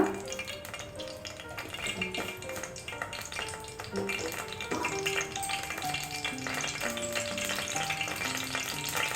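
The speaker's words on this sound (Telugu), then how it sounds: "ఆయిల్ హీట్ ఎక్కిన తర్వాత కొంచెం జీలకర్ర," Cumin seeds sizzling and crackling in hot oil in a pan for capsicum masala rice, a steady close frying hiss with small pops and light utensil taps throughout.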